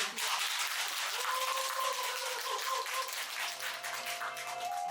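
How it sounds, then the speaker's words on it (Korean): Clapping welcomes an ocarina ensemble at a public ceremony, a crowded, bright patter that eases slightly over time while faint sustained whistle-like tones, probably the ocarinas, begin sounding beneath it. "가열 오카리나 공연팀을 큰 박수로 환영해 드리겠습니다"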